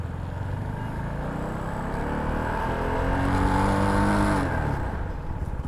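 A CF Moto NK 250 motorcycle engine drones loudly while riding, pitch rising steadily then dropping as it revs through a gear, with wind rush underneath.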